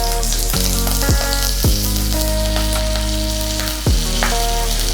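Mustard seeds and curry leaves sizzle steadily in hot oil in a pan, a continuous frying hiss punctuated by a few sharp crackles and pops, close and fairly loud, with no voices.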